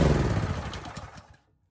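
A Husqvarna pressure washer's small gas engine runs at a loud, steady idle close by, then cuts out abruptly and leaves silence.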